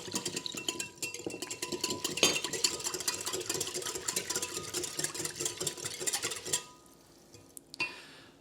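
A spoon stirs a cornstarch mixture in a bowl, making a steady run of quick scraping clinks against the sides for several seconds. It stops abruptly, followed by a couple of faint taps, close up with no talk.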